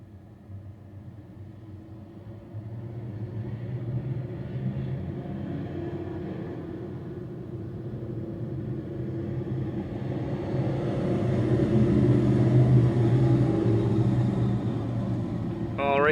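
Modified race cars idle and roll in a low, distant rumble during a heat race at Fonda Speedway. The engines swell gradually toward the end while a public-address voice talks over them.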